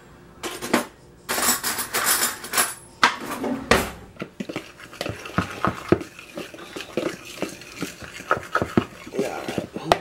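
Seasoning of garlic salt and Johnny's seasoning salt being mixed for smothered pork chops, with close, busy scraping, clinking and clattering of utensils against a dish in irregular bursts; some talk is mixed in.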